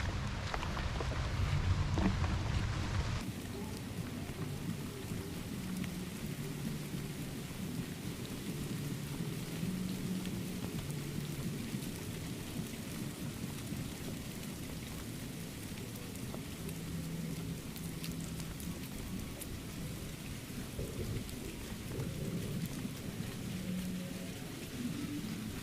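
Heavy tropical rainy-season downpour in Luang Prabang by the Mekong, a dense continuous hiss of rain on surfaces, louder and nearer at first, then steady with faint rumbles underneath.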